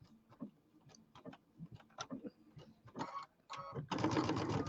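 A sewing machine sews a quarter-inch quilt seam, starting with slow, uneven single needle strokes that speed up into a steady close whir by the end.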